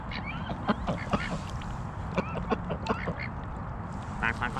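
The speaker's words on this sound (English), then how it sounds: "We're going to get attacked by ducks." Several ducks quack in a busy overlapping chorus, close by and fairly loud, with brief human voices mixed in.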